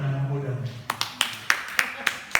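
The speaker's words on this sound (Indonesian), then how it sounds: "Kita berikan tepuk tangan untuk anak-anak muda." A few sharp claps ring out at a Sunday church service for the young people, starting after a voice trails off and continuing as a sparse, evenly spaced series of separate hand claps rather than full applause.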